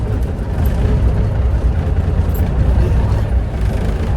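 An old Kenworth K100 truck's diesel engine that has not run for a while is running as a loud, steady low rumble close by, with no clear start-up moment.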